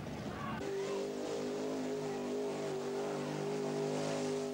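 The Bigfoot monster truck's engine drones in a mud bog, a loud steady roar with a sharp rev at the start settling into a sustained even hum.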